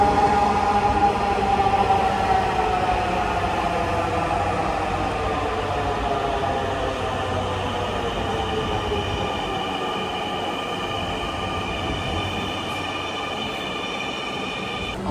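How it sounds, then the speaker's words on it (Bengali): Metro train pulling into a station, a loud, continuous rumble with high, sliding tonal squeals from wheels and brakes that descend in pitch as it slows, no talk over it. "ট্রেন আসতেছে, আমরা এটাতে উঠবো,"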